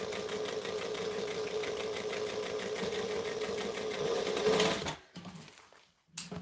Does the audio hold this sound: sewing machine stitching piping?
yes